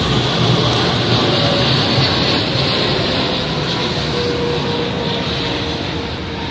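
A loud, steady engine roar from a low-flying airplane fills the whole clip, broad and droning, easing only slightly toward the end.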